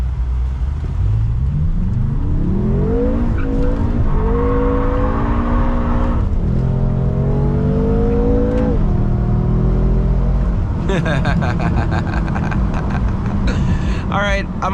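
A BMW M5 pulls hard and sweeps through rising and falling revs on a drive, with a loud steady engine drone inside the cabin and a burst of tire squeal near the end; a voice talks over it.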